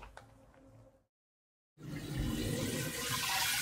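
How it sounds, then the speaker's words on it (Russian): Water pours into a barrel: after faint background sounds and a moment of total silence, a loud, steady gushing rush starts up and continues strongly to the end. "Наливаю воду в бочку, чтобы всегда тепленько было."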